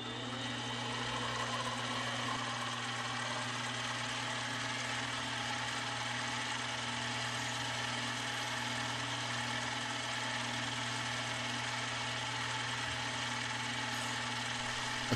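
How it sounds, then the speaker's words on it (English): A lathe spins at high speed for polishing a shamrock ring, a steady close motor hum with a low droning tone and even vibration that stays constant throughout, no voices. "Now I'm going to shift the lathe into high speed for the polishing process."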